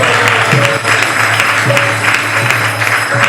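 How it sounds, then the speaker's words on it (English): A crowd at a Balaram Jayanti festival celebration claps loudly and continuously, dense applause swelling in rhythmic waves with no talking over it. "let's give a big round of applause for those who have organized and planned for this wonderful festival"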